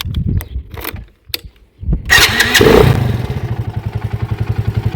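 A homemade scrambler motorcycle built from a Delta moped sputters through a few failed kicks on a cold engine, then catches with a loud clattering burst and settles into a rough, pulsing idle close by.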